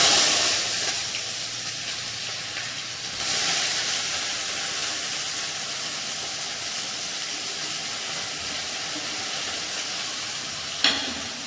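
Onions frying in hot oil in a home kitchen, a constant loud sizzle and hiss with a brief surge partway through and a sharp clatter near the end.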